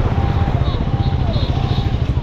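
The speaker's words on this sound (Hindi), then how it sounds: "देखो यानी चला रहा है बाइक" Engine of a motorcycle, a third-generation KTM Duke 390, ridden along a city ring road against traffic, a steady loud drone held throughout with road noise.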